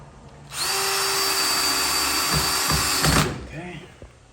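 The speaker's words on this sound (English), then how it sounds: "go ahead and sink one screw with your drill" A power drill drives a screw into a screen door in one loud, steady whir of about three seconds that bogs slightly near the end, followed by a few small clicks.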